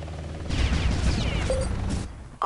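Artillery guns fire in the video game Hostile Waters, a burst of loud booming shots and rumbling blasts over a low engine-like hum, ending in a sharp crack.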